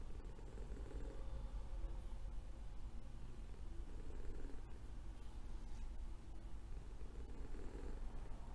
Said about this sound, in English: Could you actually hear her purring over the microphone though?